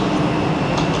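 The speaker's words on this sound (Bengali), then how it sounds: "ট্রেন এনজিপিতে ঢুকলো অনেকটাই লেটে" A Vande Bharat sleeper train pulling into NJP station, heard as a loud, close, steady rumble of rolling rail wheels over a short stretch.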